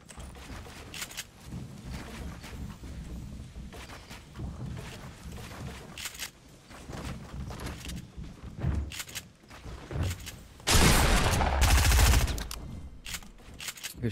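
Rapid gunfire in the video game Fortnite, dense bursts of shots crackling over a rumbling background, building to a loud sustained blast near the end.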